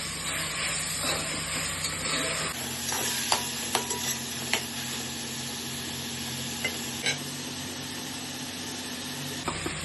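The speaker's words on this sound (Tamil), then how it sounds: "இப்போ நல்லா வெங்காயம் தக்காளி எல்லாம் வதங்கிடுச்சு." Onions and tomatoes with curry leaves sautéing in a pan for Madurai-style mutton kulambu, a steady sizzle and hiss with a few soft stirring clicks, close and continuous with no talk.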